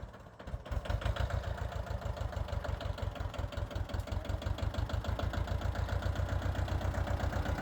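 A heavy tractor diesel engine chugs steadily at idle, a low, rhythmic throbbing that holds close and constant throughout.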